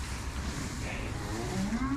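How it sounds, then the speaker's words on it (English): A Jersey cross or New Zealand Friesian heifer on a dairy farm lets out a short rising moo near the end, over a low murmur of barn background noise. "She's a heifer, all heifers."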